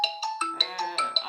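A telephone ringtone plays in repeated short electronic bursts at a steady rhythm, about six pulses, fairly close and clear with no voices over it.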